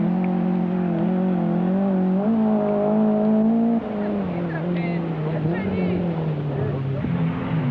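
A Group A BMW M3 rally car drives on a 1991 rally stage, its engine a strong steady drone that shifts pitch as it changes gear, under a voice commentating.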